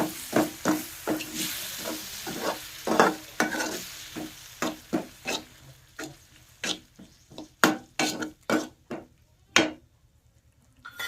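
Curd being added and stirred into a cooking pan for a village-style dish, with a spoon scraping in a steady series of short, sharp strokes over a soft sizzle.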